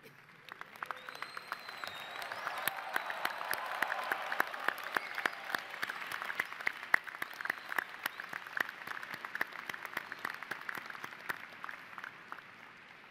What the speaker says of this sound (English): stand up and applaud and say thank you to your parents and loved ones